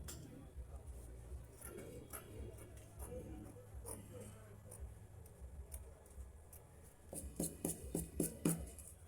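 Scissors cut out dress fabric with quiet rustling and soft handling, then a quick run of crisp snips. A voice talks faintly underneath.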